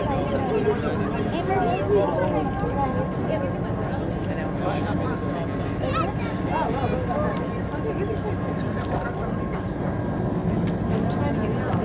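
A steady motor drone of whale-watching boats on open water off Cape Ann, Massachusetts, constant and fairly loud, with a continuous wash of wind and water noise.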